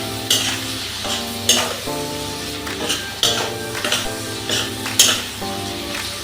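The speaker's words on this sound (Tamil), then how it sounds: "கிளறி விட்டு அந்த எண்ணெயிலேயே அந்த மிளகாத்தூள் மல்லித்தூள் நல்லா வதங்குற அளவுக்கு நம்ம பண்ணலாம்" Eggplant fries in oil with chili and coriander powder while a utensil stirs it, giving repeated metallic scrapes and clanks against the pan every second or so over a continuous close sizzle.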